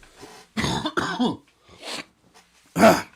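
Several harsh human coughs and throat-clearing bursts come in quick, uneven succession, close and fairly loud, with short quiet gaps between them.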